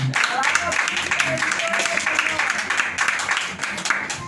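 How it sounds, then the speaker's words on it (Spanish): Church congregation applauding during a Spanish-language sermon: loud, continuous crowd clapping mixed with voices and calls throughout. "Denle un aplauso, hermano"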